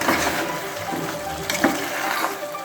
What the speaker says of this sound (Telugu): చూడండి, ఇది ఉడుకుతుంది.